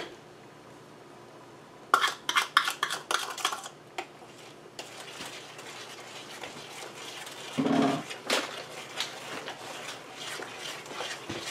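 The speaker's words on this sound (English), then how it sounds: "so I'm stirring this to get the sugar dissolved" A spoon stirring sugar into pepper jelly mixture in a metal pot, with a burst of quick clinks and scrapes against the pot, then steadier, quieter scraping and a few louder knocks, no speech.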